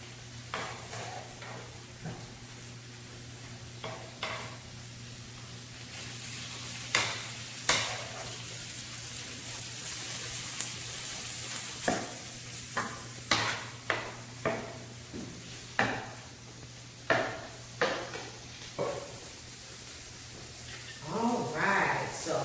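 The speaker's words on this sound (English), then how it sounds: "So my meat is ready. It's sizzling." Ground turkey taco meat sizzles steadily in a frying pan, a quiet continuous hiss broken by repeated scraping and stirring knocks from a utensil, with some clatter near the end.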